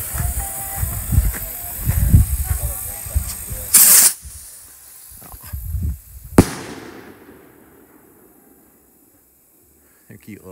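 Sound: Ring of Power 1.5 inch firework rocket being set off

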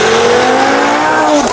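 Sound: Audi TT RS engine and tyres while driving

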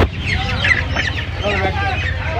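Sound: Sonali desi chicken clucking

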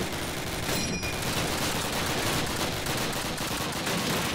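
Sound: gunfire in Call of Duty video game

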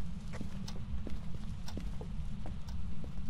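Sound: ghost footsteps in a ghost-hunting video game

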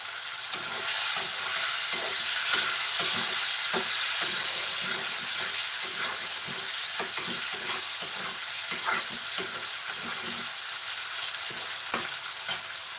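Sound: chopped onion frying in a pan

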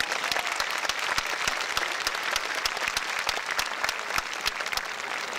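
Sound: applause at a concert

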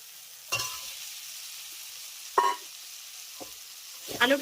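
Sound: fried potatoes stirred into sizzling spice masala

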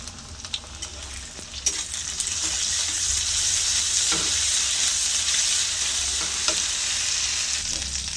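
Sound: frying and stirring onion with ginger garlic paste

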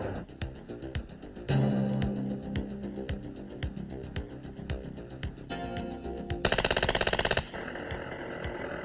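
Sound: FN Herstal P90 submachine gun firing

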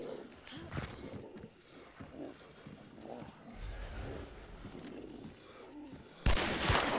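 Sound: gunfire in the video game Hunt: Showdown

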